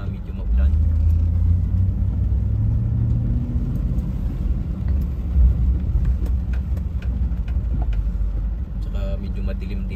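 Low rumbling road noise of cars moving through downtown Vancouver on a rainy evening, a steady heavy drone with tire hiss and passing swells, no clear speech over it.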